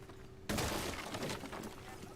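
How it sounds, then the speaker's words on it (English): Sledge smashing open floors in Rainbow Six Siege, a sudden loud crash of splintering debris that rolls on as a dense rubble clatter, over a steady hum, with voices under it. "Sledge going to be opening up a couple of the floors to peek down into the site"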